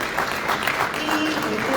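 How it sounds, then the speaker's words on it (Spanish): Audience applause at a political event in Mexico, a steady wash of clapping that fills the short stretch at an even level, with some voices mixed in. "Le damos un aplauso también a Roberto"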